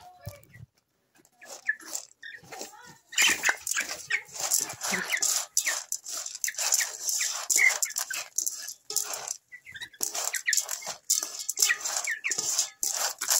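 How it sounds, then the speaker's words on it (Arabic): Twenty-day-old white broiler chickens crowd toward a fresh feed mix, with many busy clucks and squawks overlapping in irregular bursts at close range. "الفراخ بدأت ان هي جاية عايزة تاكل من الخلطة."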